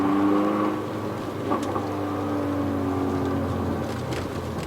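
Manual Hyundai i30 N Line fitted with an aftermarket variable muffler, its exhaust note heard from inside the car while driving: a steady, moderately loud engine drone with tonal hum and slight rises in revs, no talking.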